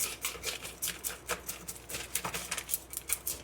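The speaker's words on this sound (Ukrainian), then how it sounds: "Ну Починаємо чистити рибку. Починаю з доради." Dorado fish being scaled and cleaned by hand, a rapid run of dry, crisp scraping strokes repeating close up throughout, with no talk.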